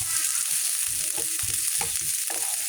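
Chopped onion sizzling in hot oil for chicken chow mein, a constant crackling hiss with regular stirring scrapes of the utensil against the pan, close and clear.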